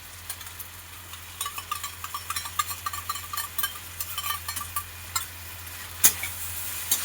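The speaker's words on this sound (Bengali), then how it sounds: "দিয়ে এটাকে একটু নাড়াচাড়া করে নেব ভালো করে।" A spoon stirring tomato and small mourala fish curry with whisked curd in a pan, quick repeated scraping taps over a faint sizzle, close and fairly quiet, no speech.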